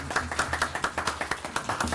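Clapping for the finance department at a Kinnelon borough mayor and council meeting: a handful of people clap in a fairly steady, quick rhythm for two seconds, moderately close and somewhat muted, without speech.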